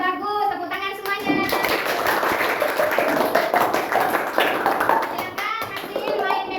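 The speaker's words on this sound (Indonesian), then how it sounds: "Tepuk tangan semuanya." Children clap their hands together in a classroom, a steady burst of close applause lasting several seconds, with an adult's voice and a voice talking over it.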